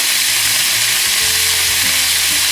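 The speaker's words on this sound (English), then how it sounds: "you want that sizzle, that sound" Beef sears in a hot pan with a loud, steady sizzle and crackle, close by and unbroken.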